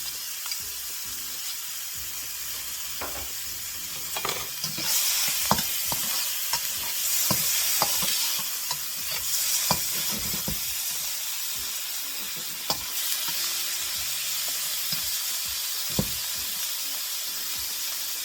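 Corn, peas and carrots from a bag of mixed vegetables stir-frying in a hot pan for shrimp fried rice, giving a steady sizzle with repeated scraping stirs and clacks, close and fairly loud, with no talking.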